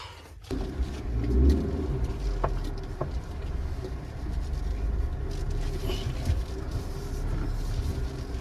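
A car engine rumbles steadily at low speed as the car drives onto a coastal jetty in Konkan, with a continuous drone and occasional clunks as it rolls forward.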